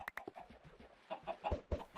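A Minecraft chicken clucks in short repeated bursts, fairly close and clear, with a few sharper pops toward the end and no talking.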